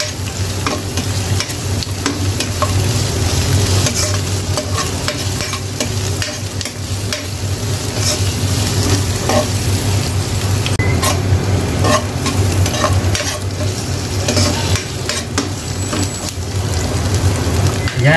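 Shrimp cooking in coconut milk for ginataang hipon sautés in a pan, giving a steady, close sizzle and frying crackle with frequent stirring clicks and scrapes throughout, with no talking.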